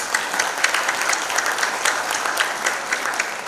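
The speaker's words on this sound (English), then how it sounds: "So a huge round of applause to all these films" Audience applause at the FICCI Frames 2024 event, sustained and even clapping from a large indoor crowd that stays at a constant level throughout.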